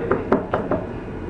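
A vacuum outlet part being tapped to knock water out: four sharp, close knocks in a quick, slightly uneven rhythm, with no talking.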